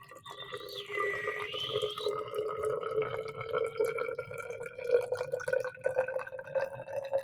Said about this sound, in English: add 50 milliliters of room temperature water